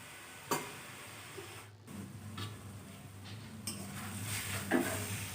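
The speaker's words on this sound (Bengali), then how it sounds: "মশলাটা দিয়ে এখন নেড়ে চেড়ে রান্না করে দেবো যেন মশলাটা কপিটা আলুটা সবগুলো উপকরণের মধ্যে" A spoon stirs cauliflower and potato curry with spices in a pan, making quiet scrapes and occasional metallic clinks over a faint sizzle.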